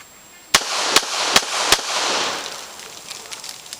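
Beretta 92 FS pistol firing four sharp, loud shots in quick succession, with a short ringing decay after the last.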